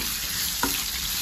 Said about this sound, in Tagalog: Ilagay natin yung ating luya. Haluin lang natin na ganyan.